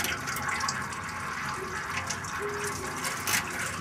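Automatic transmission fluid pours from a loosened transmission pan in a steady, close splashing stream, a continuous watery rush with no pauses.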